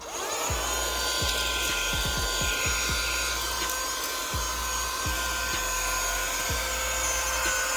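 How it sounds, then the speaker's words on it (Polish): A small portable car vacuum cleaner runs with a steady high-pitched whine and motor hum throughout, while debris such as stones, leaves and twigs rattles and knocks as it is sucked in. "całkiem dobrze poradził sobie ten mały odkurzacz"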